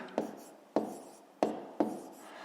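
A pen writes a math solution in short scratchy strokes, four distinct bursts at a steady pace, quiet and close with no voice.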